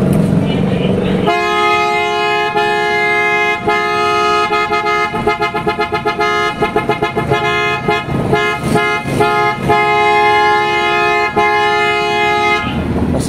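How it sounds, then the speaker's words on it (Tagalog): A loud, deep aftermarket bass car horn blares in a long blast, then honks in rapid repeated pulses and irregular toots before sounding one more sustained blast. "pakinggan natin yung tunog ng ating superior bass horn."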